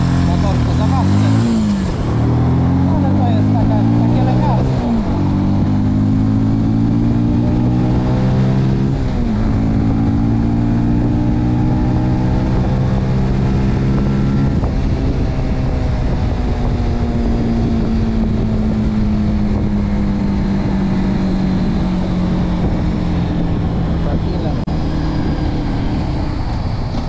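A Bajaj Pulsar NS125 motorcycle engine hums loudly and steadily while riding, its pitch climbing and dropping back several times through gear changes, with wind rushing across the microphone throughout.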